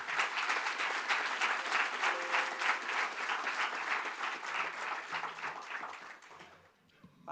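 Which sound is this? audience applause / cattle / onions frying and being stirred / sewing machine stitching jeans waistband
audience applause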